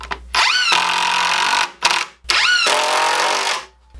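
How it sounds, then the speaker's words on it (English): A power drill drives screws into 2x4 lumber boards: two loud bursts of whining motor, pitch rising as each screw spins up and bogs down, with a brief pause between them and no talking. "I'm going to add 4 screws, making sure 2 go into this side board and 2 go into this side board"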